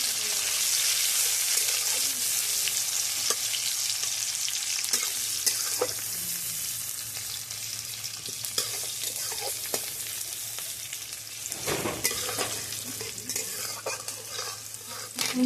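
Nigella seeds fry in hot oil in a pan for tempering dal, giving a steady, close sizzle with occasional scraping and stirring clinks.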